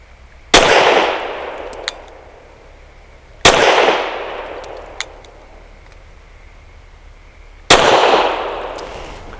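Three loud, separate shots from an Avidity Arms PD10 pistol firing long 158-grain rounds, each a sharp crack with a ringing decay, spaced about three to four seconds apart, with faint metallic clinks between them.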